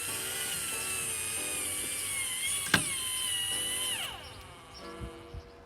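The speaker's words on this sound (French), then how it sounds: "avant, faut percer la tour là, parce que c'est pas des auto-perçantes." A power drill whines at high pitch as it bores into a tower, the tone holding steady, dipping with a sharp knock midway, then winding down with a few light clicks.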